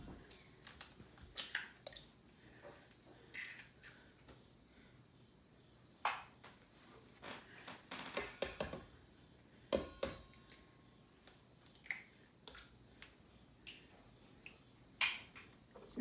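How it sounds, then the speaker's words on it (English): Six eggs cracked one after another into a bowl: a string of faint, sharp taps and clicks with small wet squishes, quiet and close, spaced irregularly. "So I'm just going to crack all the eggs and make sure no shells get in."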